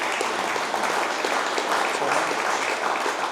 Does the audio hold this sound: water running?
no